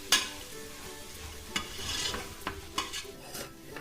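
Onions for mutton biryani being stirred in a hot pan, a steady close sizzle broken by scraping knocks of the spoon against the pan at irregular intervals.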